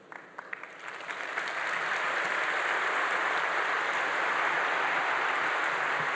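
Audience applause at a televised interview, rising from scattered claps into a loud, sustained, steady ovation that fills the space.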